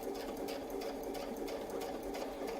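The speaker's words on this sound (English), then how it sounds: "From here, I'm going to sew that circle" Sewing machine stitching a feathered circle wreath on a quilt with a template, a steady fast needle chatter running continuously and close with no talking.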